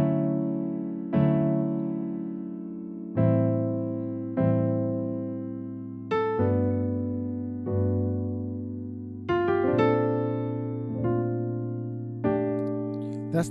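Slow piano chords of a song struck one at a time, each left to ring and decay, forming a simple progression with a brief flourish near the end.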